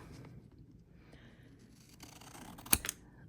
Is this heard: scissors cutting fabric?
yes